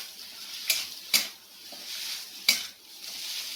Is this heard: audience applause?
no